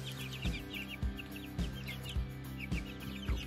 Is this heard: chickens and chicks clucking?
yes